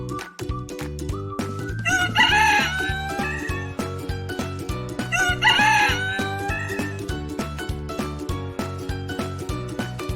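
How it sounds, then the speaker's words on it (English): A rooster crows twice in a farm-animal sound lesson, two loud drawn-out cock-a-doodle-doo calls set over steady backing music, with no talk. "Rooster."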